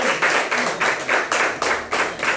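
Church congregation clapping in praise, a rhythmic series of about nine evenly spaced group claps, loud and close, with no talk over it.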